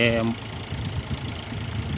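A tractor engine runs in a field where harvested crop is being cleared, a steady low rumble throughout, with a voice briefly heard at the start.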